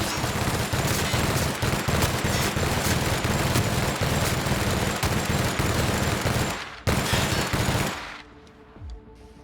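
Gunfire in the video game The Outer Worlds: dense, continuous rapid shots pound for about eight seconds, then cut off abruptly into quiet.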